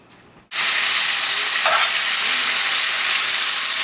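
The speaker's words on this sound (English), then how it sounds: "Now I'm going to take the steak and I'm going to fry up the steak." A thin, pounded steak hits a hot pan and breaks into a loud, steady sizzle that holds strong and close, with a brief flare of hiss partway through and no talking.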